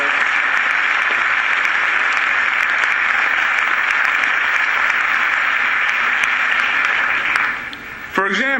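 Sustained applause from a large audience at a New York State of the State address, dense and even for several seconds before fading out abruptly, followed by a brief voice at the end.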